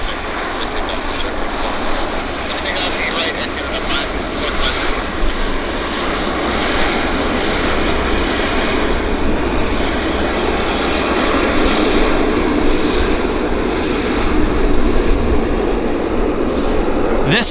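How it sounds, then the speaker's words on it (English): Air Canada Boeing 737 departing Vancouver airport, a loud, sustained jet engine roar that swells slightly toward the end, with no speech over it. "This 737 here is going to Boston. This is the Air Canada 532 to Boston."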